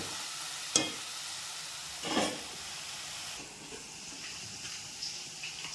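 Ivy gourd sizzles softly in oil in a pan, with faint steady frying hiss and two or three clearer scrapes as it is stirred.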